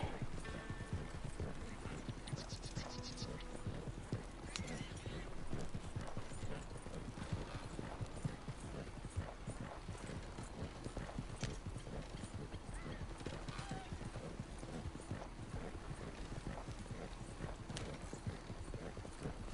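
Rapid, steady clip-clop of horse hooves galloping in Red Dead Redemption 2, continuous and fairly loud throughout, with a brief whinny and some mechanical ticking in the mix.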